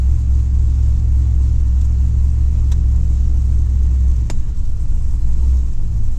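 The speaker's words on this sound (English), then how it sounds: "Hopefully she goes through the gears a lot better." A third-generation car with a swapped-in LS engine accelerates on a test drive, giving a loud, steady low engine rumble from inside the cabin, with a brief dip and change in tone partway through that could be a gear shift.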